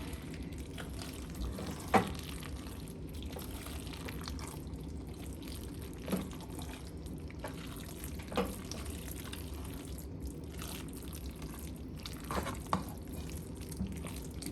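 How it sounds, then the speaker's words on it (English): Cheese sauce being stirred into macaroni pasta, soft wet squelching and gentle scraping with occasional louder clicks of a utensil against the pot, quiet and continuous without talking. "mix it into our pasta until everything is combined"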